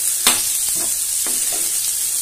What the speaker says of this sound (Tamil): இப்போ நம்ம கிளறலாம்.